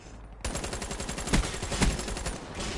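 Sustained automatic gunfire from an extended-magazine weapon in Black Ops 3 team deathmatch, a long unbroken stream of rapid shots after a brief quiet start, with a couple of louder bursts standing out.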